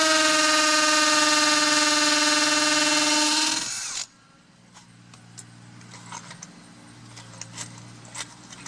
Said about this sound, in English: I'll drill through the concrete.